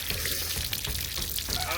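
Water runs steadily over a person's arm after a furry puss caterpillar sting, a continuous close splashing wash with no pauses.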